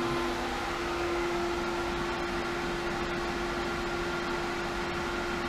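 Variable-speed pool pump, a Pentair SuperFlo VS or Hayward Super Pump VS, running at 3,000 RPM with a loud, steady motor hum and a constant whooshing drone.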